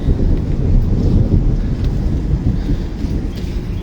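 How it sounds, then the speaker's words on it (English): Rolling thunder from a summer storm, a broad low rumble with a faint echo that swells and holds steady throughout, mixed with some wind noise. "There's some nice rolling thunder there."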